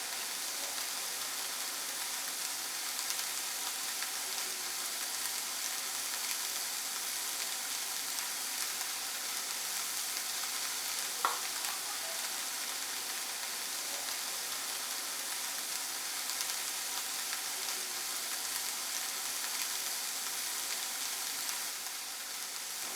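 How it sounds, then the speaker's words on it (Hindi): Half a kilo of mutton mince frying in a pan, giving a steady, even hiss of sizzling with a brief stir partway through and no talking. "अब इसमें ऐड करेंगे आधा किलो मटन का कीमा और इसको 4 से 5 मिनट भूनेंगे।"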